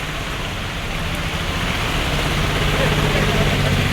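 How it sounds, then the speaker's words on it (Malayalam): Heavy rain pours down on a flooded town street in Villiappally in a loud, continuous roar, a dense steady wash of sound with a low rumble underneath. "നല്ല അടാറ് മഴയാണ്"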